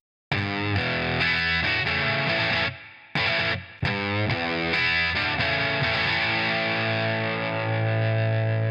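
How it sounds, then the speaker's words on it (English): Distorted electric guitar through a GarageBand stadium stack amp simulation, a British invasion style rock tone, plays loud chugging riffs and chords with a brief gap near the middle, then a sustained ringing chord to the end. "Relive the British invasion sound with the new stadium stack."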